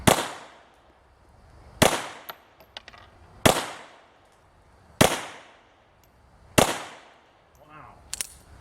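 FN 1910 pistol firing .380 ACP rounds, five sharp, loud shots spaced roughly 1.5 seconds apart, each with a short ringing decay and faint clinks between.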